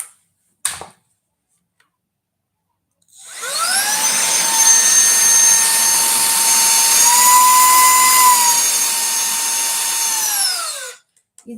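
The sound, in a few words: handheld cordless air duster and vacuum cleaner running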